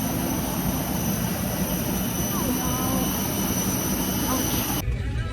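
Inside an airplane cabin, seated at the very back of the plane, a steady loud engine and air roar drones on with no break before cutting off abruptly near the end.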